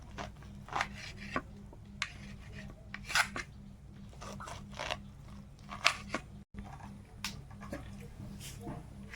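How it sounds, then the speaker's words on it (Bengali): Food being cut into thin, small pieces at an outdoor cooking setup, with a series of short, crisp slicing clicks at an uneven pace, close by, while a person talks at intervals. "ছোট ছোট করে কেটে নেব গরম খুব একটু পাতলা পাতলা করে কেটে নিচ্ছে"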